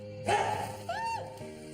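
A dog gives a single short bark indoors at moderate volume, followed by a brief whine-like tone, with nothing else prominent around it.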